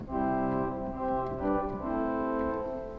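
Sustained pipe organ tone from a principal stop with a clear, full sound, chords held and shifting smoothly, moderately soft with no voices.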